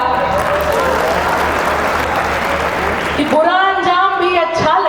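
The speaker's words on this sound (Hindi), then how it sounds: "ताली बजाओ एक बार।" An audience at a poetry recital claps steadily and loudly for about three seconds, then the applause gives way to someone speaking.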